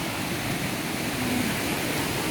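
Steady broadband rush of a waterfall at a deep swimming pool, loud and continuous throughout with no speech over it.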